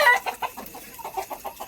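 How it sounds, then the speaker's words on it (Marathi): Desi village hens cluck in a quick series of short, close, fairly loud calls, one after another, with no talking. "प्युअर देशी गावरान कोंबड्या आपण पाळतो."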